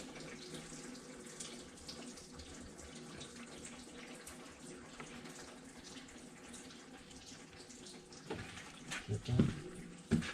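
A pressure washer sprays water during work on a truck, making a constant broad hiss that runs throughout and swells into louder, uneven gushes near the end.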